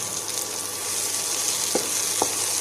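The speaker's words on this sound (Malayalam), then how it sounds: "നമുക്ക് അരിഞ്ഞു വെച്ചിരുന്ന തക്കാളി ഇതിനകത്തേക്ക് ഇട്ട് വീണ്ടും ഒന്ന് വഴറ്റി കൊടുക്കാം." Chopped tomato sizzles as it sautés with onions in a hot pan, a constant crackling hiss with a couple of soft stirring knocks from a utensil near the end.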